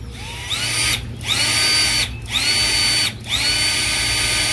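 Bosch 12V cordless drill powered by a rebuilt battery spins up in three bursts, each a high whining motor run separated by brief stops, close and loud with no talking.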